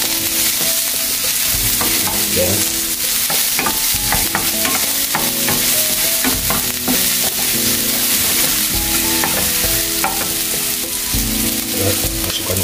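Onion and garlic fry in a hot pan for yakisoba, a steady loud sizzle broken by frequent scraping and clacking as the spatula stirs, with no one talking.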